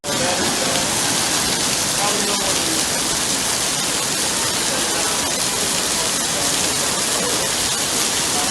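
Heavy rain pours down in a dense, unbroken roar, loud and close, a steady hiss of water hitting surfaces with no letup.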